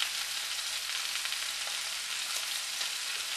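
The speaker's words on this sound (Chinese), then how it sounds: "而家我爆香嗰啲葱姜" Ginger slices and spring onion whites sizzle in hot oil in a wok while red-cooked pork belly is being made, a steady close, bright frying hiss with small crackles throughout and no voices.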